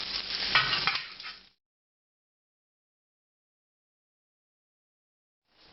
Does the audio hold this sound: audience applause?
no